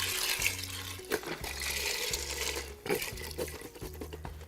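Chicken broth is poured from a container into an Instant Pot over dry macaroni, making a bubbling, splashing liquid flow with clinks and glugs under a faint background hum.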